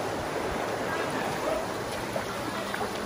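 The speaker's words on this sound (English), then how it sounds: "Neat little tiny waterfall down there." Small waterfall in Spearfish Canyon, a steady broadband rush of falling water heard from a short distance and continuous throughout, with no talk.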